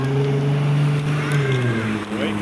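A Ferrari 296 with its hybrid V6 drives past on a street, a loud droning engine tone that shifts pitch as it moves by, with light wind noise.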